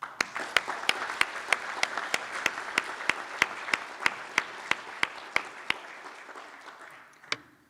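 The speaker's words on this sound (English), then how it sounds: "Please join me in a round of applause to acknowledge the valuable contributions of the SWCDs to conservation efforts." A summer conference audience applauds in a large room. Many hands clap at once in a continuous wash with sharp, evenly spaced individual claps on top, then the applause thins out and stops near the end.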